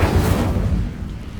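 Incendio, a fire spell cast in Hogwarts Legacy, lands as a short, deep whooshing burst of flame that swells and then fades out.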